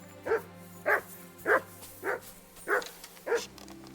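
Mutz, a dog in the game Kingdom Come: Deliverance II, barks six times at an even, unhurried pace, each bark clear and fairly close over a low in-game background hum.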